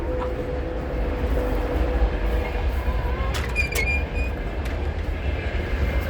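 A train rumbles past nearby, a low continuous roar with brief metallic squeals and clicks from the wheels.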